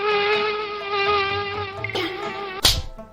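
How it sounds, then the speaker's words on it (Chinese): A cartoon mosquito buzzes close by in a thin, steady, high-pitched whine for several seconds. A sharp smack-like hit cuts it off at the end. "卧龙山还有蚊子！"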